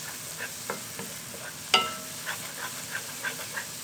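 Semolina halwa roasting in a pan gives a soft, quiet sizzle under repeated scraping strokes of a spoon, with one sharper metallic clink partway through; no one speaks.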